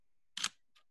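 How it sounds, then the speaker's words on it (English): A Sony A7R III camera shutter fires once, a crisp sharp mechanical snap followed by a fainter second click a moment later, close and alone in an otherwise silent room. "Now listen to the shutter on this thing."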